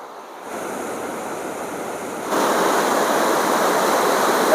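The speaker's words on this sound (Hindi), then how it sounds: "जैसे समुद्र में लहरें उठती ना, वैसी लहरें यहाँ पर नज़र आ रही हैं।" Ganges river water surges through the opened gates of the Bhimgoda barrage, a steady, loud roaring rush like ocean surf that swells louder partway through and continues unbroken with no voices.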